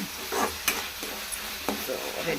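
Food frying in a pan, a moderate sizzle broken by a few sharp scraping stirs and clinks, no voices.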